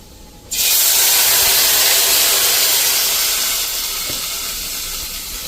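A spice tempering of red chili powder and turmeric bursts into loud hissing sizzle as it hits hot oil, a sudden close roar that stays steady and slowly eases off.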